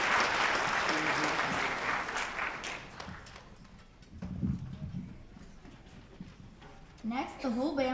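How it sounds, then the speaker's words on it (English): Audience at a fifth-grade band concert applauds the percussion section, a loud burst of clapping that thins out over several seconds, followed by a voice speaking near the end. "And one more round of applause for our percussion for playing along with all of our groups."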